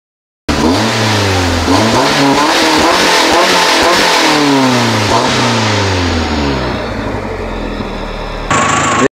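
A car engine runs loud and close after a repair, its pitch rising and falling through several revs before easing down toward a steady idle, then a brief higher-pitched sound cuts in at the end.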